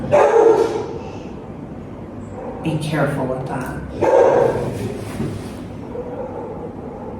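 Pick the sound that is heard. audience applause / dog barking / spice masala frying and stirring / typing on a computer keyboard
dog barking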